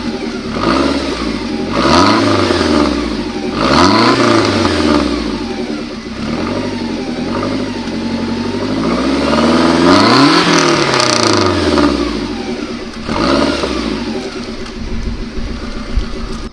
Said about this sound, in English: So we're going to do test drive in this Lancia Delta EVO 1.